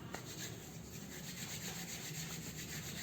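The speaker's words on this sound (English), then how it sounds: "Warm your hand and stethoscope to rub the hands." Hands rub briskly together to warm them before an abdominal exam, a soft, steady, close friction sound with no one speaking.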